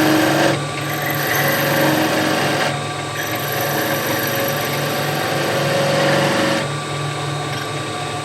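A skew chisel takes a planing cut along a wooden spindle turning on a lathe, a loud continuous whirring hum with brief dips where the tool lifts off before cutting again.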